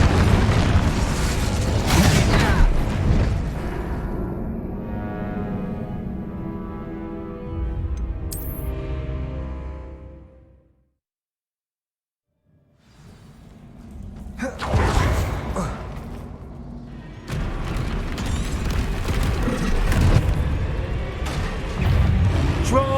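Repeated booming spell explosions from the Bombarda charm in the video game Hogwarts Legacy, loud and dense thuds and bursts in the first half, a brief near-silent gap, then more heavy blasts resuming.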